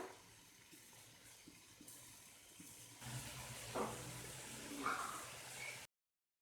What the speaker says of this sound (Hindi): 2 कप पानी ऐड किया।